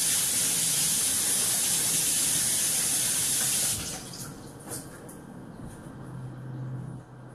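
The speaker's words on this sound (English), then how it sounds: "I'm just gonna rinse my hand real quick." A kitchen tap runs as a hand is rinsed, a steady bright hissing stream for several seconds that then shuts off, leaving faint handling sounds.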